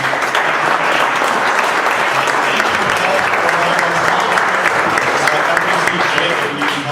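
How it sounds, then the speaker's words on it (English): Steady audience applause at a sales enablement event, a thick continuous wash of clapping from a crowd that holds at even loudness throughout. "But now just give it up, a round of applause for everyone."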